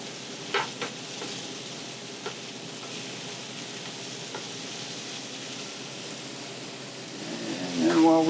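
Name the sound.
pork searing and sizzling in a pan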